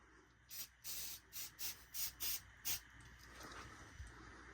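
Canned smoke sprayed toward a Kidde SD300 smoke detector in several short hissing bursts, seven quick puffs in a row, close and fairly loud, followed by quieter background hiss.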